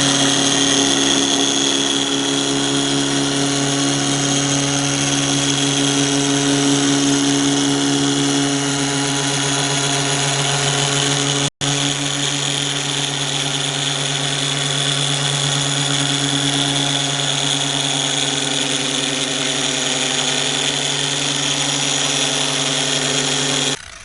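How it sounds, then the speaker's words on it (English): A 3-inch dual-action polisher works on a Honda Prelude headlight lens, a steady, loud, high motor whine with a droning hum that runs without pause, close up, broken only by one sharp instant cut near the middle. "if you have a 3-inch DA polisher, the little thing is Velcro on the back"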